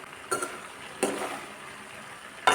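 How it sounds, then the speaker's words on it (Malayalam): Cooked dried beans are stirred into papaya in a pan, giving three short scraping clinks of a utensil against the pan, quiet and close. "ഇനി ഇതിലേക്ക് വേവിച്ച് വെച്ച ഉണക്കപ്പയർ ചേർത്ത് നന്നായിട്ട് മിക്സ് ചെയ്യാം."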